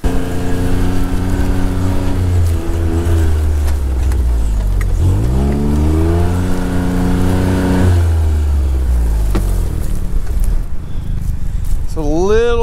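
A John Deere Gator utility vehicle on a farm drives with its engine revving up and down in rising and falling pitch sweeps, loud and close, with wind and a voice talking over it.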